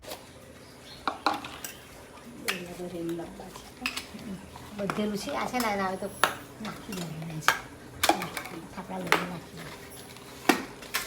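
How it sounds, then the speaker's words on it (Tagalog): Dishes and plates are wiped and handled in a home, with scattered clinks and sharp knocks of crockery and cutlery at irregular intervals, and a voice talking in between. "Kung nakikita nyo namang nagpupunas ng mga dishes guys o mga plato ay si Reka Foy."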